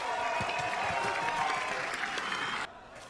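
A crowd at a medieval tournament in House of the Dragon cheers and applauds in a dense, sustained roar that suddenly drops to a quieter murmur near the end.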